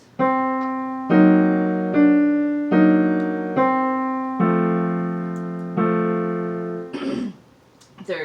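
A measure of Khachaturian's Andantino played on keyboard, a series of evenly spaced, sustained chords each struck and decaying, ending with a brief voice.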